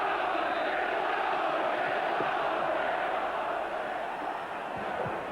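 A full house of 35,000 football fans at Hillsborough stadium for a Sheffield Wednesday match creates a dense, steady roar of crowd noise that holds at an even level throughout.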